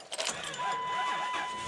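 Dodge truck with an 8-liter engine turned over with the key, a brief close cranking and catching of the engine in a short burst.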